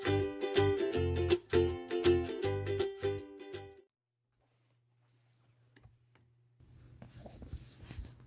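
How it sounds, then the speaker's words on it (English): A blue marker drawing lines across a quilt block along a rotary ruler, a quick series of close, squeaky strokes that stops partway through, followed by near silence and then a soft rustle. "I'll start out by marking a T through the center of my block."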